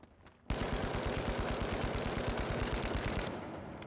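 FCAR rifle fire in the shooter game THE FINALS: one sustained fully automatic burst of rapid, evenly spaced loud shots lasting about three seconds, then a brief decaying tail.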